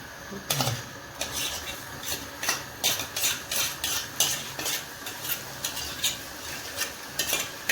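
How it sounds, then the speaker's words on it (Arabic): Garlic frying in a pan with a lump of fat and a little corn oil for Egyptian molokhia, with steady close sizzling broken by repeated scraping stirs of a utensil against the pan. "حطينا حتة دهنة اهي وشوية زيت ذرة وعشان نحمروا التوم"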